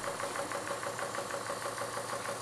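A Murdoch flash steam engine runs steadily, a continuous mechanical churn with a fast, even pulsing beat and broadband hiss, close and alone.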